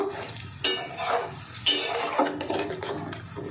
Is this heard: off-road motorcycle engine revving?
no